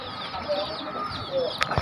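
Native hens on a chick-rearing farm, brooding about thirty eggs between two birds, give a few short, soft clucks close by over steady background noise.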